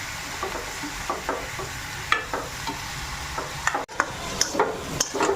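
A spoon stirs kohlrabi and potato curry while the spices fry in a pan. Intermittent scrapes and knocks sit over a low, steady sizzle, close up and without speech.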